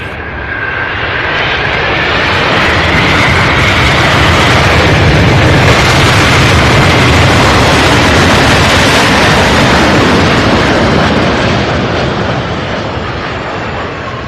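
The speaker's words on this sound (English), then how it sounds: "Loud, beautiful MD-11 out of Oakland, California, UPS flight 2945." A UPS MD-11 jet roars past on takeoff at Louisville, its thunderous engine noise swelling to a loud sustained peak with a whining tone before slowly fading.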